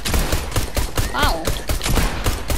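A pump shotgun fires rapidly in Fortnite, with repeated loud close blasts in quick succession while a player briefly exclaims.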